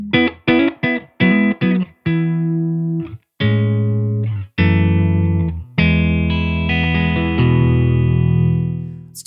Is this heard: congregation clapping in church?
no